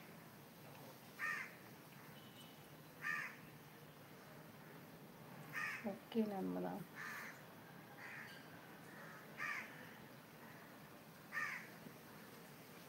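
Crows caw outdoors in short bursts spaced a couple of seconds apart, with a brief spoken phrase in the middle and quiet background between calls.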